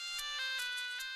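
A phone rings out on an outgoing call in a Marathi TV serial scene: a bright, tonal ringback tone pulsing in repeated short bursts, steady and clear with no talking.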